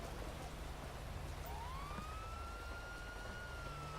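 Steady rain falls in the police game LSPDFR, a constant broadband hiss running through the whole stretch, with a siren tone sweeping up and holding in the background.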